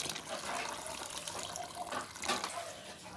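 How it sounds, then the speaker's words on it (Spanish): Tap water pours steadily into tamale dough in a bowl, a faint, continuous splashing and trickling, alone without talk. "también se le agrega un poquito de agua del chorro"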